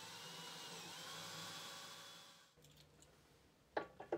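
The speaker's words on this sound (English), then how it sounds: "I pre-drilled the screw holes for the base plates." A power drill bores screw holes for the base plates of a bench face vise, whining steadily for about two and a half seconds and then stopping, followed by a few faint clicks and knocks.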